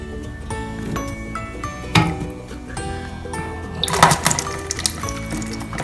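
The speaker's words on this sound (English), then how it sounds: "I'm going to flush the toilet so the water comes out." A toilet flush during a home repair, the tank draining with gurgling water and sharp porcelain clinks and knocks, loudest about midway and again near the end, close and unvoiced.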